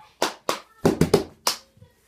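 Hand claps and cup taps from a song, a few sharp close strikes in an uneven rhythm, a quick triple cluster in the middle, recorded in a quiet room.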